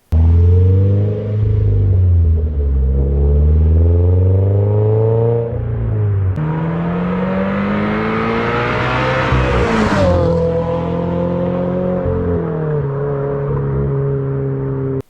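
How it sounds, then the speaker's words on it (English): Subaru BRZ first-generation exhaust fitted with a JDL front pipe, revving loudly with rising and falling engine pitch, a sharp climb to a peak then dropping back, continuous and close with no talk. "Here's a little video of a JDL front pipe from the Gen 1."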